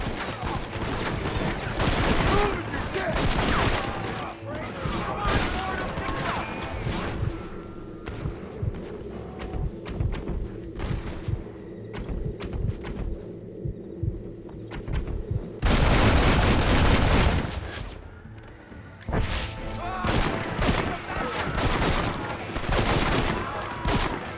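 Repeated gunfire in a Red Dead Redemption shootout in Mexico, dense volleys of shots cracking throughout with louder bursts near the end, mixed with game voices and background action.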